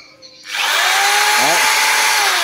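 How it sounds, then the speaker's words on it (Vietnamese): A Bosch power drill kicks in after a brief quiet moment and then runs loud and steady, a whining motor drone that dips and swells briefly midway, with no talking over it. "cái khoan này là cái khoan bót nha anh em"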